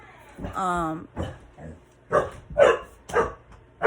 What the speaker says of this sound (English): I got my freaking dog in the background